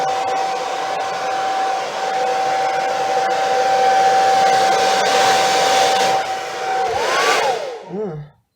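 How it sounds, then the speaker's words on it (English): A hairdryer blows acrylic pour paint over black, white and gold layers. A loud, steady whine runs for about seven seconds, then the motor winds down and cuts off, with no talking. "I'll take the hairdryer and blow the base negative space paint over the black and white and gold."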